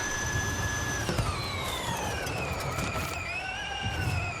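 An electric motor on a BMW i4 in Forza Horizon 5 whines steadily, its tone gliding downward then levelling, over a loud broadband rush of road and wind noise.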